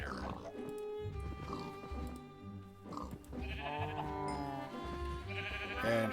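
Sheep bleat in the Minecraft Blightfall modpack, short game-style calls repeating over several seconds amid background game sounds and music-like tones, with someone talking over them.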